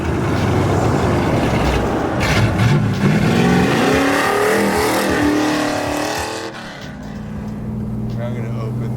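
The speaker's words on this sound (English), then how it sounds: "All right, let's go for a drive." A 502 big block Chevelle SS restomod, a classic American muscle car, drives and accelerates with a loud rising engine roar that eases off near the end. Someone talks over it throughout.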